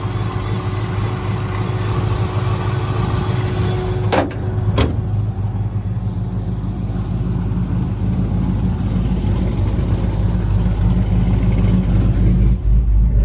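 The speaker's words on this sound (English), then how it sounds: "It might take a little while since we sit here idling." A 1978 Chevy truck engine idles with a steady low drone, a couple of brief clicks near the start, and no talking.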